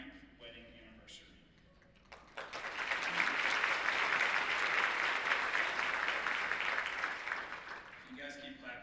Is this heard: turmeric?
no